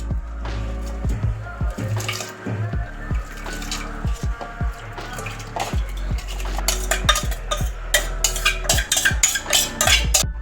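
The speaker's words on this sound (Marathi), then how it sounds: "स्वच्छ धुवून घेतलेले गहू आता आपण कुकरमध्ये सर्व असे टाकून घेऊयात" Washed wheat grains and water tumble into a metal pressure cooker with dense rattling and repeated clanks, growing busier and louder toward the end.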